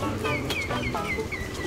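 A chicken clucks close by in short, pitched bursts repeated several times over faint background noise.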